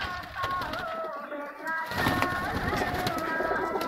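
Pigeons in a rooftop loft coo with soft, rounded calls, and the sound grows fuller partway through as more birds join. Faint background voices and rustling sit beneath the cooing.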